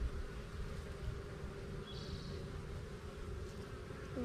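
Honey bees buzz steadily inside an irrigation valve box, a continuous low insect drone close by with no talk over it.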